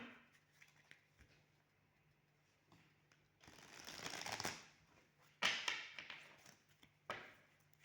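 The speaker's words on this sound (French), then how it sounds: "On va prendre 3 cartes de cet oracle." Oracle cards are shuffled in several separate bursts of soft riffling and flicking, quiet and close, with short pauses between them.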